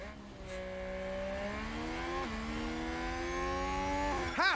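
Race cars in the F1 Manager 2022 video game whine past with high-pitched engines climbing and dropping through gear shifts, several overlapping cars with a brief squeal near the end, steady and moderately loud without talk.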